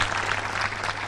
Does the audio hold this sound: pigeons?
no